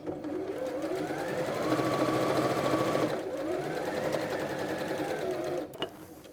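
A sewing machine runs a straight seam across quilt blocks, a steady close mechanical whir with a slight dip near the middle, then stopping just before the end.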